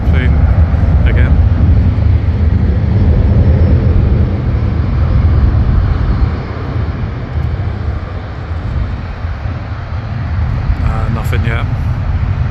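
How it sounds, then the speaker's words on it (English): An ITA Airways airliner at a busy airport gives a steady, loud jet roar that fills the whole stretch, easing slightly partway through as the engine noise continues without a break. "Oh, there's our ITA plane again."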